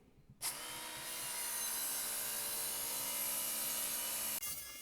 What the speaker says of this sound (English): we got all the rust off, and we're starting to make an edge back on this tool